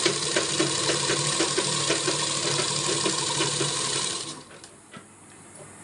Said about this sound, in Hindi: और अब लगेगी इस तरफ को सीधे में सिलाई।